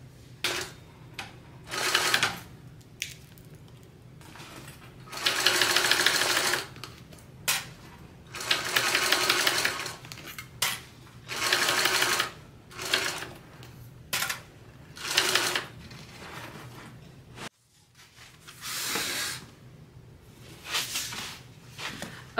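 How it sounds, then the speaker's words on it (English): A sewing machine stitches around the top of a handmade bag in repeated bursts of rapid, close mechanical clatter, each run lasting one to two seconds with short pauses between, quiet room otherwise. "now I'm going to go and sew around the entire top at 1/4 of an inch."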